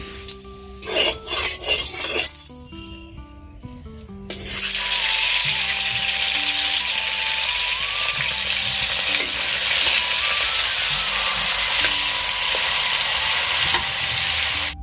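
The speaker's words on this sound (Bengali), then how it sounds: "এই যে মাছটা ভেজে নিই আমি এই তো মাছটা রেখে দিলাম" Loud, steady sizzling of fish frying in oil fills the pan after a few seconds of clattering and scraping, continuing without pause.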